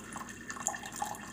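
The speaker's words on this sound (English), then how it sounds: "Pour it into your Pyrex to cool." Pressed coffee is poured into a Pyrex, a soft, steady trickle and splash of liquid that stays faint and close throughout, with no talk.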